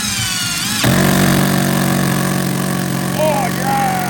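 A Parkside 12V cordless drill drives a screw, its motor whirring loudly and continuously after a sharp start, with brief pitch shifts as the load changes.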